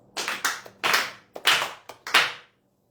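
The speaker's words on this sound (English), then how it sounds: "Please clap 4 times." A congregation claps in unison during a Sunday prayer service at a temple, several sharp, fairly close group claps evenly spaced with short silences between, ending in quiet.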